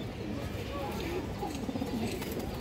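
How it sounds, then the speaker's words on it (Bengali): Pigeons, colored breeds kept for flying, coo softly in a low, repeated warbling pattern nearby, with faint background murmur. "এই যে দেখেন খুবই সুন্দর কবুতর"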